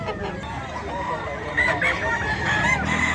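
Chickens clucking and crowing at a busy pet market, amid a noisy background with voices murmuring faintly underneath.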